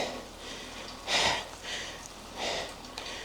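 A congested nose sniffles several times in quick, close breaths outdoors in the rain, each wet sniff short and soft over a faint hiss of background noise, with no talking.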